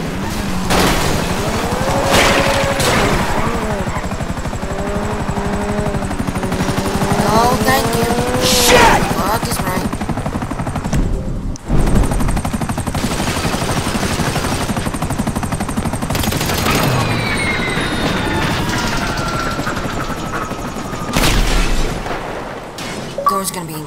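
In a GTA 5 heist on the FIB building, a helicopter and gunfire sound dense and continuous, with bursts and booms layered throughout under game voices.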